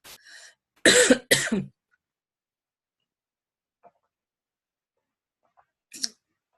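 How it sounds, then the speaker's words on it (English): Two or three sharp coughs in quick succession, close up, followed by a few faint clicks and a short throat-clearing sound near the end. "I'm still suffering from this little cough."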